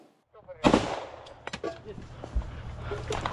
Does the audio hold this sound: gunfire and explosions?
yes